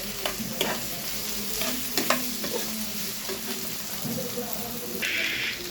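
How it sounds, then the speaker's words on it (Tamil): Potatoes frying in a pan for a potato and broad bean stir-fry, a steady low sizzle with a few scraping stirs and clinks near the start, close and continuous. "உருளைக்கிழங்கு இப்போ சேர்த்துருக்காங்க உருளைக்கிழங்கு லைட்டாக வேகட்டும்"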